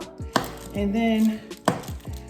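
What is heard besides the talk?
knife chopping a bar of soap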